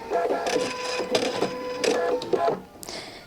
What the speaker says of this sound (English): my walking foot is integrated into my sewing machine